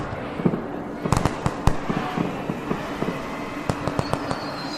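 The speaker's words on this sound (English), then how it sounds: "You can see fireworks explode overhead, painting the sky in these blinding, beautiful, terrifying bursts of light." Fireworks bursting high over a city at night, a scatter of sharp cracks and pops, some in quick clusters, others spaced apart, heard from a high vantage with a steady background rumble.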